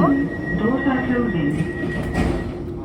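Metro train running through an underground subway station, with a steady rumbling roar and rail noise throughout and a voice speaking over it.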